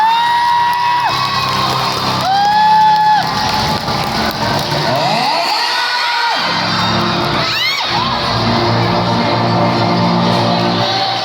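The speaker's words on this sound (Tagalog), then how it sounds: "isigaw lamang at ipalakpak!" Lively crowd at an acrobatics show, loud and continuous, with shouts, whoops and cheering rising and falling over a dense wash of clapping and chatter, a few voices calling out above the roar.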